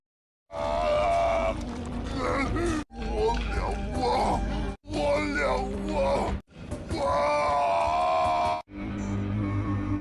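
A man screams in pain in several long, loud, strained bursts separated by brief silences. The screams have a dramatized, performed quality.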